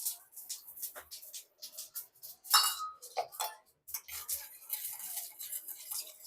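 A spoon mixing sugar and water in a small bowl, producing quick, irregular clinks and scrapes of metal against the dish, close and fairly quiet, with no talking.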